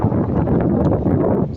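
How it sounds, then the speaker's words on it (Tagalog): Strong wind buffets the microphone as a steady, dense roar with low rumble and rustle, continuous and close throughout, while outdoor workers wait because the gusts are too strong. "Kasi malakas yung hangin."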